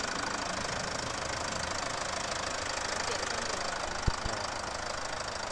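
A Mercedes-Benz C300 BlueTEC Hybrid's turbocharged diesel engine runs steadily with an even, close mechanical clatter, broken by one brief thump near the end.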